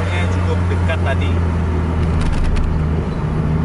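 Racing bus on a dusty dirt road shoulder, a continuous low engine drone with rumbling road noise, close and steady, while someone talks over it.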